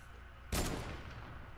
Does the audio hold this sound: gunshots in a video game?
yes